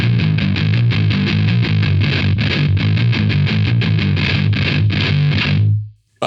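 A 7-string electric guitar runs through a Moen Dragon Roar distortion pedal with the mids turned fully down, giving a dense, loud, fuzzy riff of fast chugging chords that cuts off abruptly near the end.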